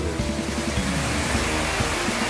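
Loud, close waterfall in a Brazilian mountain area, a dense continuous roar of falling water that does not let up, with some faint tonal sound blended in underneath.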